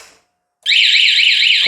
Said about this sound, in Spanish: está sonando la alarma y la motocicleta no enciende